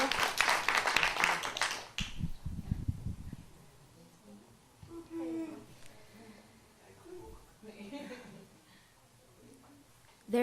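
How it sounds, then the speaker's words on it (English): A burst of audience clapping for the performer Morgan fills the first two seconds, loud and dense, then fades into quieter room noise and scattered speech. "So can I get a warm applause for Miss Morgan?"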